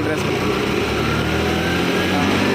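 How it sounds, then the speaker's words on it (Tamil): A vehicle engine runs loud and close at a steady, unbroken level throughout, with no clear rise in revs, while voices seem to talk over it. "இப்போ நம்ம வந்து வண்டி ஸ்டார்ட் பண்ணி பார்க்க போகிறோம். ஆனால் ஸ்டார்ட் பண்ணுங்க. ரேஸ் பண்ணுங்கள். ஃபுல் ரேஸ் பண்ணுங்கள்."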